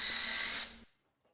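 A power drill drives a countersunk screw into wood, a steady high whine lasting under a second that cuts off abruptly, followed by silence.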